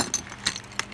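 A set of keys jangles close by, giving three brief metallic clinks and rattles spaced across a second against faint room noise.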